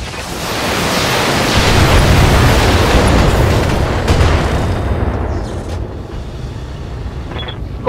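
Mech weapons firing in the Battletech video game: a loud, sustained roaring wash of blasts that swells early, holds steady for several seconds, then eases slightly, with a faint electronic tone near the end.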